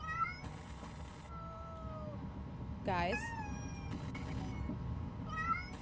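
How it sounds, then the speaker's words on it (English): Small kitten meowing in the horror video game Amanda the Adventurer, a few thin rising and falling cries spread across the clip, with someone talking over them and game sounds in the background. "It looks like this kitten is in big trouble."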